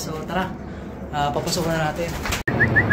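A racing pigeon coos briefly outside amid someone talking nearby, with a sharp click near the end followed by a faint high chirp.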